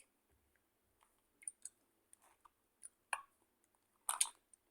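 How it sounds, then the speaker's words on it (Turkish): Someone chews Rocco candy up close in a quiet room, producing sparse, soft, moist clicks and crunches scattered over a few seconds, with a louder burst near the end. "Ben bunu çiğneye çiğneye şey edeceğim."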